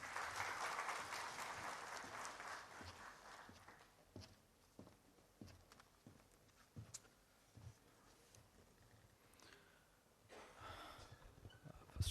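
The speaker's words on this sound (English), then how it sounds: "Let us all welcome him with a round of applause" Applause from a conference audience at a national conference's inaugural session, a dense burst of clapping at the start that thins into scattered claps and fades under light room noise.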